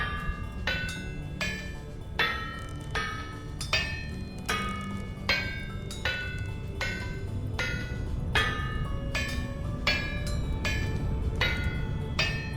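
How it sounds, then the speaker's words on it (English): Hammer blows strike steel on an anvil in Vintage Story, sharp ringing metallic clangs repeating at a brisk, fairly even pace, about sixteen strikes over a soft background hum. "Let's hammer it quick."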